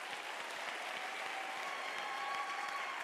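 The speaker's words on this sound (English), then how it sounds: "Can you give her a round of applause?" An audience at the University of South Africa autumn graduation ceremony gives sustained applause, a fairly soft, even rain of many hands clapping in a large hall.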